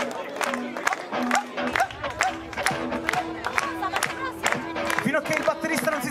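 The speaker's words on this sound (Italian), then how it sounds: "Iniziamo a battere le mani." Audience clapping in rhythm at a Celtic music festival club event in Belforte del Chienti, Italy, steady sharp claps close by over crowd noise and music, with a voice speaking.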